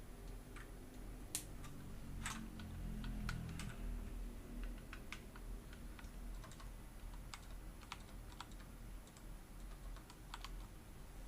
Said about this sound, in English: Let me reconnect my keyboard.